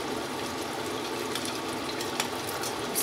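Mutton bhuna frying in a pan gives a steady, soft sizzling hiss with faint crackles, low in level and uninterrupted, with no talking.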